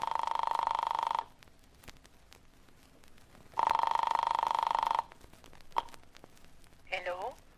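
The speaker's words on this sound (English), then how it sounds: "I flicked the telephone dial to the number in her note." A telephone ring-back tone sounds in two long, steady bursts separated by a pause, fairly clear and close, with a brief voice sound at the end.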